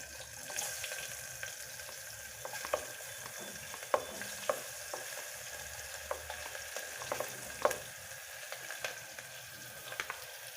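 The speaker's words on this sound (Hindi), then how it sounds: "फिर इसमें हम काटा हुआ प्याज ऐड कर देंगे।" Chopped onions fry in a pan for an aloo matar curry, giving a quiet, steady sizzle broken by small clicks and taps from stirring.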